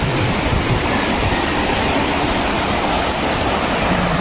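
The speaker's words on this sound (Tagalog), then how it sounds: "Ngayon maganda naman ang agos ng tubig dahil summer, saka kailangan lumalim para mapaliguan ng mga tao" River water flows steadily over rocks at a summer stream in Real, Quezon, a dense, even rushing wash heard up close and alone without talk.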